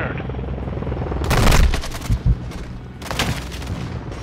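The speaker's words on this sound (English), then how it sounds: "Come on, helicopter. Shoot the fuck out of these dudes." Helicopter gunfire rattles in bursts in Modern Warfare II, two loud broadband volleys with sharp impacts between them over a steady rotor-like rumble, a battle around a headquarters.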